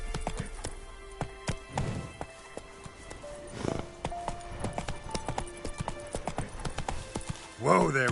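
Roach the horse galloping in The Witcher 3, irregular hoof clip-clops in quick clusters over faint game ambience and musical tones, ending in a louder snort or whinny.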